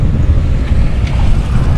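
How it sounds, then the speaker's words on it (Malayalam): Strong wind buffets the microphone outdoors at a hilltop viewpoint under rain clouds, a loud steady rumbling roar with no voices. "നല്ല കാറ്റുണ്ട്"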